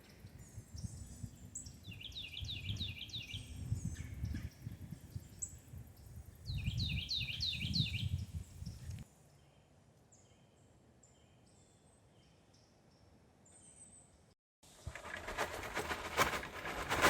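Birds call near a lake at Lake Louisa State Park in Florida: repeated bursts of chirping song over low rumbling ambient noise, faint and at a distance, followed by quieter scattered calls and a stretch of broadband noise.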